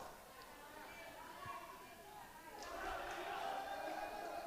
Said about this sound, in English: You can hear the fans cheering them on.